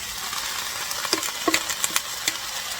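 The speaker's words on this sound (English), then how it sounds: "now we're gonna add our cabbage" Cabbage stir-frying in a pan for pancit bihon with chicken and shrimp: a bright steady sizzle with a quick series of clicking spatula strokes toward the end.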